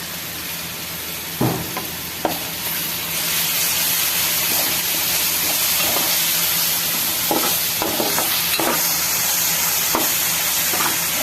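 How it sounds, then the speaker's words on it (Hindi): Garlic added to onions sizzles and fries in hot oil while being stirred for achari chana pulao, a steady loud hiss broken by sharp scraping stir strokes every second or two. "लहसुन को हमेशा प्याज के साथ ही फ्राई किया करें।"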